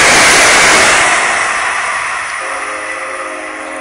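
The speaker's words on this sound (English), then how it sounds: "here comes Amtrak Regional Extra 1164 about to fly past Guilford" Amtrak Regional Extra train led by an ACS-64 electric locomotive rushing past a station platform at Guilford, Connecticut, a loud close roar that fades as it passes, with no talking.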